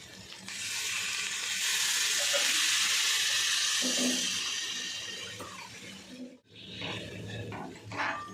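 Water is poured into hot oil and masala for a fish curry. It bursts into a loud, hissing sizzle that swells and then slowly fades, breaks off for a moment, and then flares up again more briefly.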